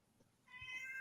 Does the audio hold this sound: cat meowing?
yes